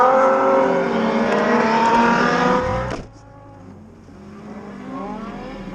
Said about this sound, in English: The idle's so low. Just go real easy on the clutch, get it rolling.